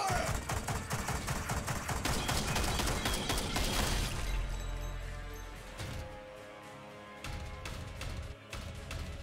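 Rapid bursts of video game gunfire in Warhammer 40K Regicide give dense crackling volleys for about four seconds, then scattered single shots and impacts over a low rumbling battle ambience.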